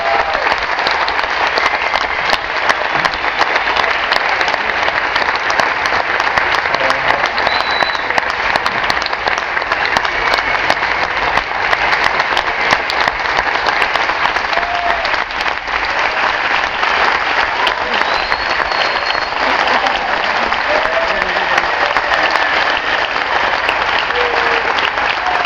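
A large audience applauds steadily and loudly, a dense, unbroken wash of clapping that carries on at full strength without fading.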